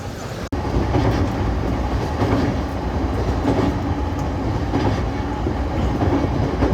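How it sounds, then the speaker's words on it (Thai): Inside an electric skytrain during the ride, a continuous rumble with rhythmic wheel clatter fills the cabin. The sound stays steady and close throughout, with no talking. "ในการนั่งรถไฟฟ้าเนาะ"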